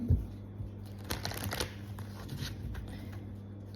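A short burst of close, soft tarot-card shuffling rustles along under a low steady hum, with no voices.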